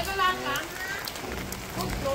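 Rain falls steadily on surfaces in a Bangladeshi village, a soft continuous patter that swells slightly at the start and near the end, with no voices heard.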